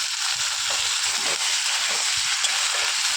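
Ginger paste and split green chillies frying in a pan, a loud continuous hiss and sizzle of hot oil with occasional scraping stirs, close up and without talking.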